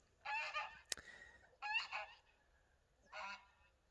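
Free-range farm poultry call out in three loud, honking squawks spaced about a second apart, close and clear against a quiet outdoor background, with a sharp click between the first two.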